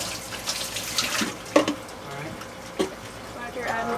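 Water trickling and splashing into the hull of a 1977 boat around a leaking propeller shaft seal, a steady wet flow with a few sharper splashes, heard close in a cramped space with some talk.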